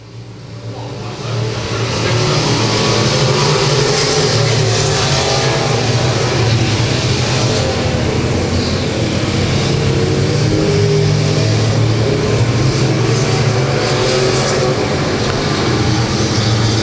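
Modified and stock race cars lap Humboldt Speedway, producing a loud, sustained engine roar that swells in and then holds steady as the pack circles the track.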